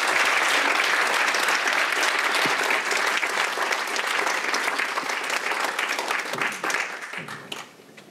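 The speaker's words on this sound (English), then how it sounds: "please, put your hands together, give a warm applause for Melissa Herman." Audience at a Berlin Brains neuroscience lecture giving a warm, sustained round of applause for the next speaker, dense and loud at first, then thinning and fading out toward the end.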